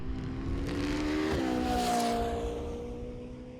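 A race car at full speed during a 4-hour endurance race sweeps past, its high, steady engine note swelling and then dropping in pitch as it goes by, loud and close at first before fading.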